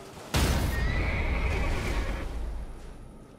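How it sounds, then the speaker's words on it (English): Torrent, the spectral steed horse in Elden Ring, lets out one loud, frightened neigh that starts abruptly, then trails off slowly under a faint hiss. "Spectral Steed is frightened and cannot be summoned."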